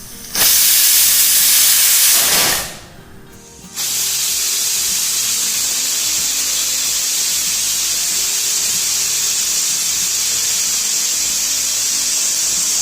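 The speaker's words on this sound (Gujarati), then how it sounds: "ગેસની હાઈ ફ્લેમ પર લગભગ 6 થી 7 વિસલ થાય ત્યાં સુધી આપણે કૂક કરવાનું છે" A pressure cooker holding toor dal on a high gas flame lets out loud, sharp steam hisses, a strong burst at the start, a brief drop, then a steady continuous hiss.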